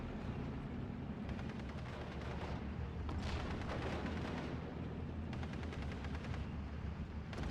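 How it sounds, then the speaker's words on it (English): Artillery fire in the Steel Division 44 World War II strategy game, a steady low rumble of distant shelling and explosions with scattered crackling gunfire, fairly faint and continuous. "We do got some more artillery coming in."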